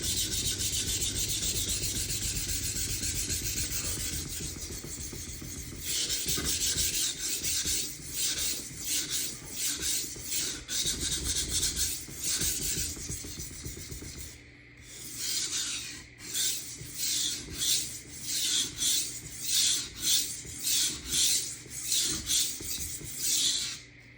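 A kitchen knife sharpened freehand on an Atoma diamond stone gives continuous gritty rasping strokes, first long and fast, then a quick regular back-and-forth rhythm, close and loud without talk.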